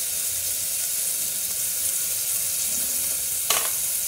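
Garlic and onions frying in melted butter in a pan for a chicken stew, a continuous even sizzle with a brief sharp clink near the end, no voices.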